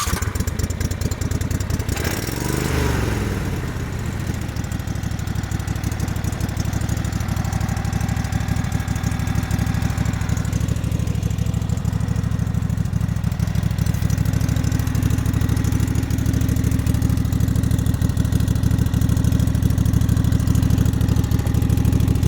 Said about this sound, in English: Now I'm sure a lot of you really want to hear it run.